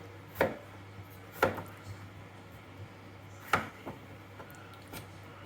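Potatoes chopped with a knife on a cutting board, a few sharp, isolated knife strikes spaced irregularly against a quiet kitchen background.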